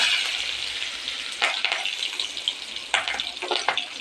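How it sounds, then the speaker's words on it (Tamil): Shallots and green chillies sizzling in hot oil with popping mustard seeds, a steady close frying hiss with sharper crackles as pieces land in the pan. "கடுகு நல்லா பொரிஞ்சிருச்சு நாம் நடுக்கி வச்சு சின்ன வெங்காயத்தில் இதில் போட்டுக்கலாம் பச்சை மிளகா போட்டுக்கலாம்"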